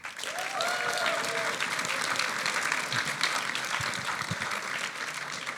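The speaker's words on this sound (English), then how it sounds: "let me just ask another huge round of applause to all the partners" Applause for the partners at a hackathon awards ceremony, a dense and sustained clapping from a sizeable audience that carries evenly from start to finish.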